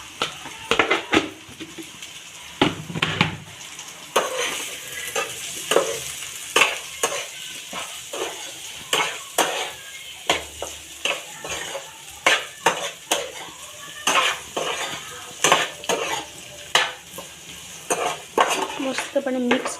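Boiled potato pieces are stirred in a pan, a spoon scraping and clinking in rhythmic strokes against the metal over a light sizzle, close and fairly loud.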